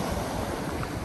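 Broadband roar of sea surf washing onto the shore at Lazarevskoye near Sochi on a drizzly morning, steady and fairly loud with wind noise over it and no voices.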